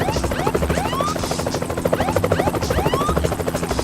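A helicopter's steady rotor thumping and engine drone, loud and continuous throughout, with chirping birds audible over it.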